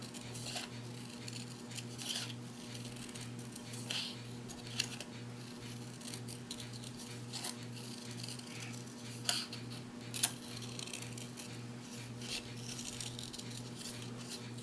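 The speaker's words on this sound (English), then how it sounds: "The same can be done by taking a pair of scissors" A pair of scissors cuts a paper spiral for an Easter card, producing a quiet, steady run of regular snips with occasional sharper paper rustles and clicks.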